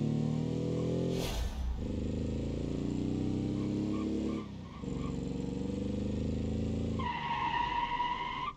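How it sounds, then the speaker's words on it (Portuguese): Volkswagen Beetle (Fusca) in BeamNG.drive with a loud engine drone throughout and a sustained tyre screech at the end, after a brief sharp crash-like burst early on. "Ô, Fusquinha cantando pneu!"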